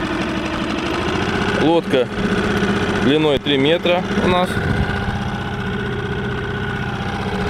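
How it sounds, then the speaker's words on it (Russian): A Parsun F5 BMS outboard motor idles on a 3-metre boat, a loud, steady engine chug running continuously while someone talks over it in Russian. "Сейчас мотор работает на холостом ходу."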